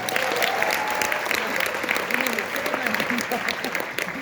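An audience claps at a business seminar in a hall, a sustained wash of applause at full strength throughout, with a voice speaking over the clapping.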